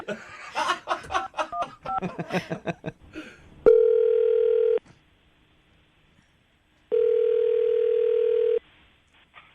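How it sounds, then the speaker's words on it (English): A telephone rings out twice on a call to a woman for a morning radio show's second-date segment, each long steady tone lasting about a second before a pause, following a burst of laughing and chatter at the start. "I'm so excited to call a rich person."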